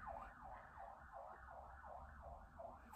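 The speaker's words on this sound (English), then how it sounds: "There's a police car going past." Police car siren passing by, its wailing tone rising and falling steadily in repeated sweeps, fairly prominent over low rumbling traffic and room noise.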